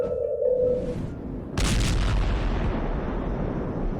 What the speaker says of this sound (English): Earth-shaking booming sounds have been reverberating off some parts of North Carolina for more than 150 years.